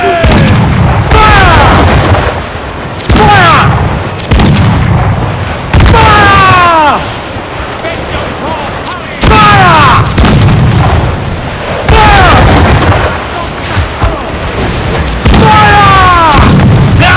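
Ship cannons on a sailing vessel in Assassin's Creed Black Flag fire repeated loud, booming broadside volleys in uneven bursts, each blast rolling off, with crew voices shouting between them.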